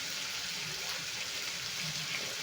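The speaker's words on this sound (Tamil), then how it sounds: "இந்த கொள்ளு கொஞ்சோண்டு தண்ணியில் கழுவி போட்டுக்கலாம்" Horse gram is washed in a little water, a soft, continuous swishing and trickling close by, faint and steady throughout with no talk.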